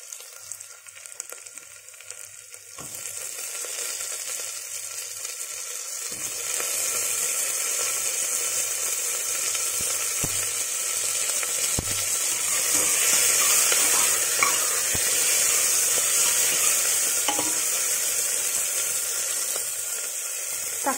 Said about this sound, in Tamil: இப்போ வந்து நம்ம தக்காளி ஆட் பண்ணிடலாம்.